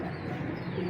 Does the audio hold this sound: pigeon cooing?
yes